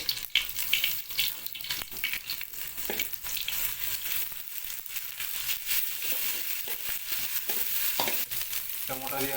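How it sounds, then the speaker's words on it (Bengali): Ginger garlic paste hits frying onions in a pan, a bright, steady sizzle broken by rapid scraping stirs and clatter throughout, close and fairly loud, with no talking. "এবার আদা রসুনের পেস্ট দেওয়া হচ্ছে"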